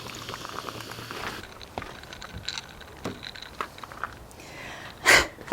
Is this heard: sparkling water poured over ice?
yes